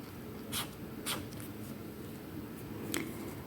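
Pen writing on paper for a whispered ASMR lesson on body parts: a few brief, soft scratchy strokes at about half a second, one second and three seconds, close and quiet over a low steady background hiss.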